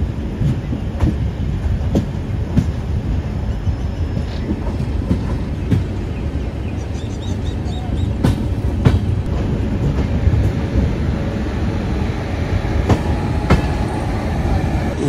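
A passenger train rolls into Sarai Rohilla station in Delhi, recorded from aboard, with loud continuous rumble, repeated clickety-clack wheel beats and occasional sharp metallic squeals, no talk.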